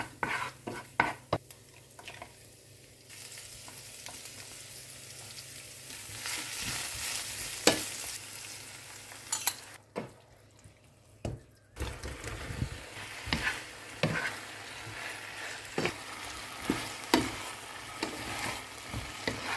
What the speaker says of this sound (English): Now we can start sautéing by putting our veggies step by step.